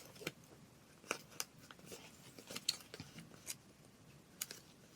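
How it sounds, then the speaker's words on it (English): Scissors trimming the white edge off a piece of paper, a series of crisp, quiet snips at an uneven pace, close by and with no talk. "I'm going to cut the white edge off with my scissors so that the black shows"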